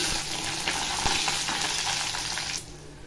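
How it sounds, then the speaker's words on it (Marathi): Onion sizzles in hot oil in a pan for a soybean curry, a steady, close frying crackle that eases off near the end, with no voices. "आता कांदा टाकते। कांदा सुद्धा चांगला असा भाजून घ्यायचा तेलामध्ये।"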